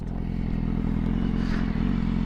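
A 2015 BMW S1000RR sport bike's exhaust gives a loud, close, low rumbling idle with some clattering and light mechanical noise, steady throughout with no talk.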